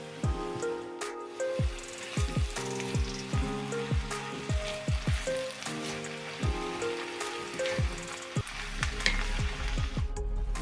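Onion, carrot and beetroot stewing in a covered pan over low heat, giving a dense, steady sizzle with crackling pops. A series of repeated tonal clicks and knocks runs through it, close and moderately loud.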